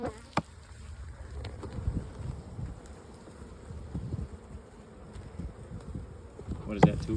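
Honeybees hum steadily from a hive box opened in an upper stack, a low, continuous buzzing close by with a few sharper knocks and a brief louder burst near the end.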